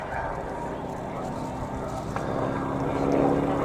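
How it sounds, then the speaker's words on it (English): Boeing Stearman biplane with a 450 horsepower Pratt & Whitney radial engine and a roughly 10-foot propeller, droning steadily with a pulsing throb that swells slightly louder toward the end, under a voice. "Generally powered by a 450 horsepower Pratt & Whitney radial."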